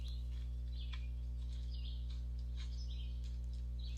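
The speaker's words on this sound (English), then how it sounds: "You can hear the birds." Faint, high bird chirps and short calls scatter over a strong, constant low electrical hum that dominates the background.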